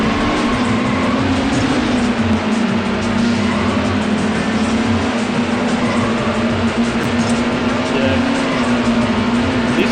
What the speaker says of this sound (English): Racing. Certain cars are very, very slow.